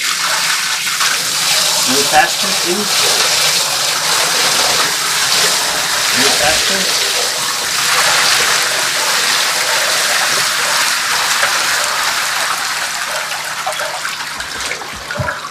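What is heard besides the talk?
barrel of water being poured onto a living room floor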